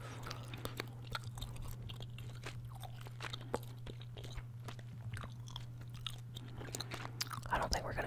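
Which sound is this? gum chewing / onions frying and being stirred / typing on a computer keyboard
gum chewing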